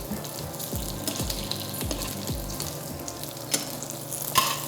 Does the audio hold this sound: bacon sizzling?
yes